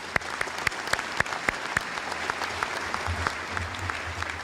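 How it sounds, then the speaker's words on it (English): An audience at the 2024 ATSU-KCOM commencement ceremony applauds its graduates: a steady, full wash of many hands clapping, with a few sharper individual claps standing out throughout. "give yourself another round of applause"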